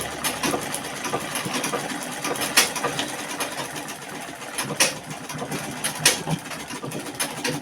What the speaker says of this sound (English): So I'm done sewing it.